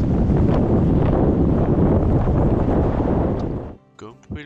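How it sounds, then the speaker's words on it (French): Strong wind buffets a microphone at the water's edge during a fishing session, a loud continuous roar of broadband rumble that drops away near the end, where a voice briefly speaks. "Comme vous pouvez le comprendre, énormément de vent."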